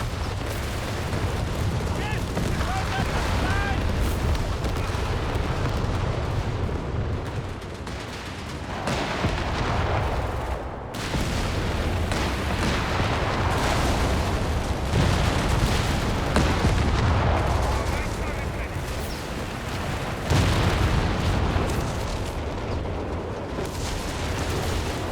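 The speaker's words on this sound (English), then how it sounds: "Zeroing artillery on the other 17-pounder" Artillery barrage in the game Company of Heroes 3, a continuous dense roar of booming shell impacts and gunfire on the Gazala Bunker Grounds map, loud and sustained throughout, with voices faintly under the din.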